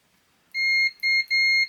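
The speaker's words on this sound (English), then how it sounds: "I'll set it to continuity, which is just the mode that beeps when the leads touch" A multimeter in continuity mode gives three clear electronic beeps, close and loud, one long tone followed by two shorter ones, with near silence before them.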